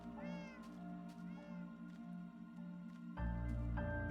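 Two drawn-out cat meows from a video game, each with a rising-falling whine, play over a steady droning game soundtrack that swells louder near the end.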